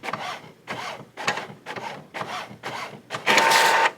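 An inkjet printer printing a design onto fabric: repeated rhythmic mechanical passes of the print head, about six strokes, followed by a louder, sustained feed noise at the end, close up with no talking.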